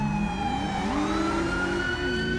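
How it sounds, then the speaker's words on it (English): A police car siren in the video game GTA V with the LSPDFR mod, on a 2009 Dodge Charger, wails steadily, its pitch sliding and rising in a continuous sweep, loud and close with no other sounds. "We'll get to really listen to the siren."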